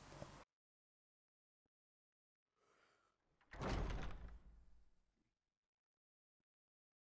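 Heavy door in Skyrim opening, a brief creak followed by a louder sliding thud and rumble that trails off, close and alone against near silence.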